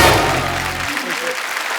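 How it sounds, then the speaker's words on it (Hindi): A studio audience on a comedy talk show applauds Rishi Kapoor as he takes his seat, a loud, dense roar of many clapping hands that fills the whole clip, with a voice briefly heard at the start. "जोरदार तालियां एक बार ऋषि सर के लिए।"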